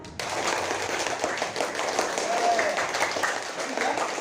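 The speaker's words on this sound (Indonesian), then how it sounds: "beri tepuk tangan untuk kelompok dari hutan." A classroom group applauds fellow students presenting on a forest ecosystem, a short burst of scattered clapping with some voices mixed in, moderately loud throughout.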